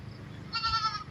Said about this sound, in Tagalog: May kambing doon.